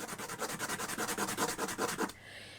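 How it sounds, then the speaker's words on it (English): Power sander working a wooden egg, a steady run of rhythmic rubbing strokes close up that stop abruptly near the end and leave a faint hiss. "take hold of the sander and just sand that down."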